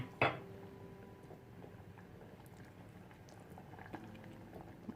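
A pot of job's tears simmers with brown sugar and pandan leaves, giving a steady, faint bubbling hiss with a sharp clink near the start and a few soft knocks later, no voices.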